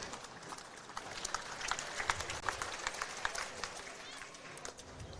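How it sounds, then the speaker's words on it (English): A spectator crowd at an Australian Open women's pairs lawn bowls semi-final bursts into sustained applause and cheering for a good bowl, a dense wash of clapping that swells and then eases slightly, with commentary talk underneath. "The crowd appreciation for good bowls is terrific here."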